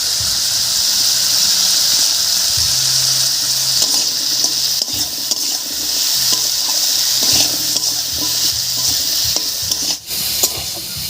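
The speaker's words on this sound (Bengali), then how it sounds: "এই অবস্থায় আলুটাকে একটু ভাজা ভাজা করে নেব" Cut potatoes with onion, salt and turmeric fry in a pan with a steady, close sizzle, broken by repeated scraping and clinking as a utensil stirs them against the metal; no one speaks.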